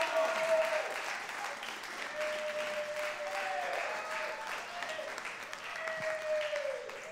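A studio audience applauds steadily for several seconds at a regional Occitan TV show, dense clapping with a brief voice over it.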